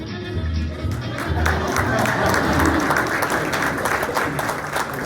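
Business-event audience applauds a presenter with steady, full clapping from a sizable crowd, a dense sustained patter with a few cheers, loud and close throughout.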